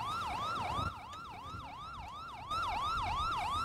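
Piercing police cruiser siren from a roleplay game, cycling up and down in a continuous wail, near and loud, dipping briefly in level before surging back stronger, no voices.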